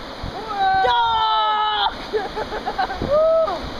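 Waves about four feet high splash and rush close by, while excited voices talk and shout loudly over the churning water.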